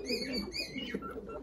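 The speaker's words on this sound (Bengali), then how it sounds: "এখানে দুটা লাল কবুতর আছে" Giribaz pigeons coo softly in a short, faint burst of throaty warbling calls, with light chirps of other birds mixed in and no voices.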